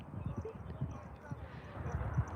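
Horses at an Ocala showcase walk past at close range. Their hooves give soft, irregular clip-clops under steady conversation.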